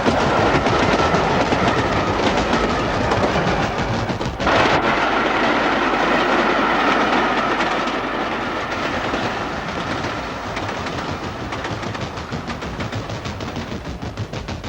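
Train running along a railway beside a London council estate between Battersea Park Road and the tracks, a loud, sustained rumble with rhythmic clickety-clack of wheels, close by and slowly easing over about fifteen seconds, with no voices.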